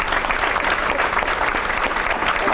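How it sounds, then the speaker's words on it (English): Close, loud applause fills a Teacher of the Year banquet hall as the audience claps together in a dense, continuous burst. "Give yourselves a round of applause."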